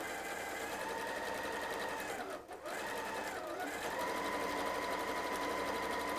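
A sewing machine stitches cushion fabric with a fast, steady mechanical whir, pausing briefly midway before running on, close and continuous at a moderate level.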